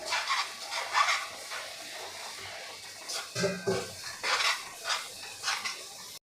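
Moong dal paste roasting in ghee in a pan for halwa, stirred with a utensil: repeated scraping and clinking strokes at close range over a soft sizzle, in irregular bursts through the whole stretch.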